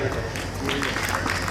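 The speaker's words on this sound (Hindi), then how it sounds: "जोरदार तालियां बेटा" Applause at a school annual function for a student who took first rank in Class 8, a steady wash of crowd clapping underneath someone speaking.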